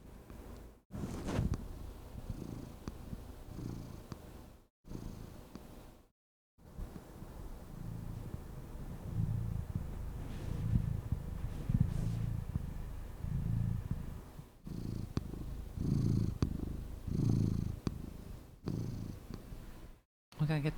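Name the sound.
cat purring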